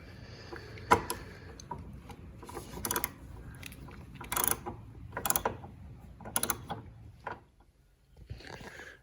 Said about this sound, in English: Gotta make sure I'm tightening it.